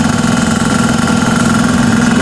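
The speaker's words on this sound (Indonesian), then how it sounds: "Ini udara sedang terkompresi dan masuk ke dalam kompresor ini." An electric air compressor with a motor and pressure switch, part of a pneumatics demonstration, runs while compressing air: a loud, steady, close humming drone with a constant low tone and no voices.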